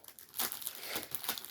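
Plastic packaging crinkling and rustling loudly during a dollhouse renovation, several close crackling bursts over a second and a half with no talk.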